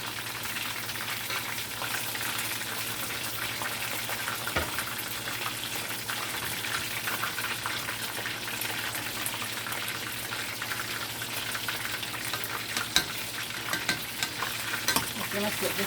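Chips frying in hot oil for fish and chips give off a dense, continuous sizzle and crackle, close and steady, with a few faint knocks as pieces are turned over.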